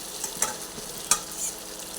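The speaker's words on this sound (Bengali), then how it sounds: "আবার একটু ভালোভাবে নাড়াচাড়া করে" A spoon stirs cashew and capsicum masala in a pan, two quick scraping strokes over a soft background sizzle, close and fairly quiet.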